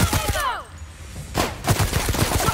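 Gunfire in The Outer Worlds, a burst of shots up front, a pause, then renewed rapid firing mixed with game sound effects, loud and close.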